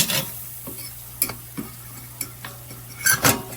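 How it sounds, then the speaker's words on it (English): Flour being stirred into meat fat in an electric skillet for country gravy, a faint steady hum underneath with scattered spoon scrapes and light taps against the pan, the last one louder near the end. "you want to make sure this flour gets blended up in that meat fat really good"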